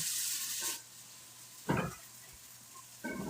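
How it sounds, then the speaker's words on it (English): Tofu searing in hot oil in a pan: a loud burst of sizzling at the start, a sharp spatter around the middle, and renewed sizzling at the end, with quieter pauses between. "oil is hot, so we're gonna put this in. We're gonna let it sear."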